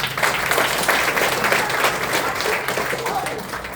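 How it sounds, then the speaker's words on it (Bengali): An audience at a training session in Kolkata claps together, a dense burst of applause that holds steady and then tapers slightly. "সবার জন্য হাততালি।"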